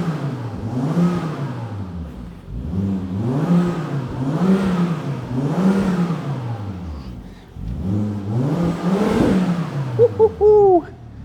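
A 20-year-old Volvo T5 with an upgraded exhaust revs repeatedly up and down close by, about five loud rising and falling engine pulls with no talk over them.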